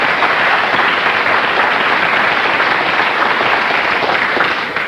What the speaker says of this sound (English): he gets this round of applause